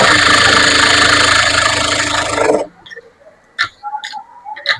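A sewing machine runs continuously at close range for about two and a half seconds, stitching a double seam on a blouse, then stops abruptly, leaving a few faint clicks and brief handling taps.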